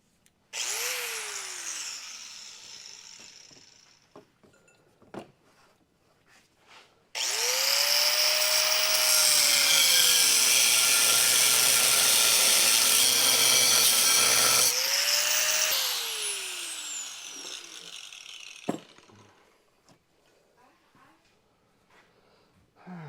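A power saw cuts a 45-degree piece for an engine stand attachment, winding up with a rising whine, then a long loud steady cut of about eight seconds, then spinning down, with brief handling knocks around it.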